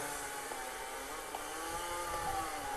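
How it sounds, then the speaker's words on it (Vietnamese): Buzzing chainsaw of a chasing enemy in a horror video game drones continuously at moderate level, a steady whining motor with faint fluctuations throughout. "tên hai cầm cưa kia chạy ôi"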